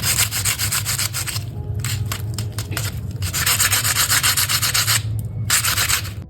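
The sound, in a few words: crunching crispy fried samosas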